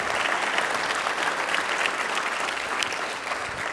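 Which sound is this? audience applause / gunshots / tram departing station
audience applause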